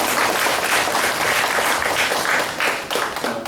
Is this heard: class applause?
yes